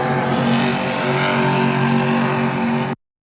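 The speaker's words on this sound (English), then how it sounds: "Took a video of the burnouts as we kind of talked about the burnouts before." Race trucks doing burnouts at a truck race roar in a steady, loud engine drone with screeching tires, sustained for about three seconds before cutting off abruptly.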